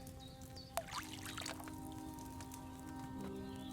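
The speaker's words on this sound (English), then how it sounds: "First, you have to pour the right base into the cauldron." Wine poured from a pitcher into a cauldron in the video game Kingdom Come: Deliverance, a short liquid pour with a brief splash at the start over steady background tones.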